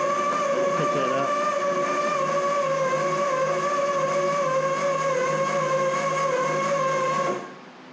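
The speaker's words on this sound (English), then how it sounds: "Puts a strain on the little electric motor, but it can do it." A small electric motor hoist, rated at one ton, strains while lifting a roughly 400-pound Bad Boy mower, giving a loud, steady whine that runs continuously and then cuts off abruptly near the end.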